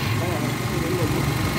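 A homemade motorcycle engine runs at a steady idle nearby, a continuous mid-low drone with someone talking over it.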